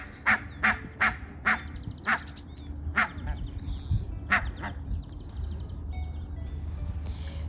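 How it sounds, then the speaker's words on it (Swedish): A series of sharp honking calls from barnacle geese rings out in quick succession, fairly close, over a low background rumble, with softer distant calls trailing off. "Og jeg var selvfølgelig nødt til at filme bramgæstene her."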